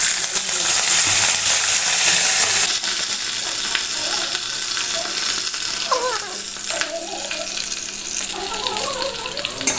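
Green chillies and curry leaves hit hot oil with a loud, close sizzle that settles into steady crackling frying, with some stirring and spattering later on.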